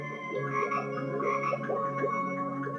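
A Halloween cauldron toy plays croaking frogs in a steady, busy chorus of repeated electronic croaks layered over a sustained tonal hum, moderately loud with no voices.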